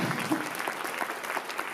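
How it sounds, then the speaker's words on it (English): Brief applause from an event audience in Anaheim, a short burst of mixed clapping with a hint of voices underneath. "please give a round of applause for Drew Lane"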